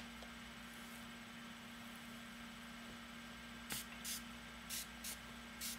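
Several short, sharp bursts of a spray bottle misting hair to saturate it, in quick succession, over a steady low electrical hum.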